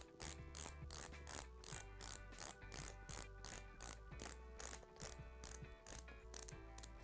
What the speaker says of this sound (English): pop this dial in, and then just start to turn it clockwise until everything cinches down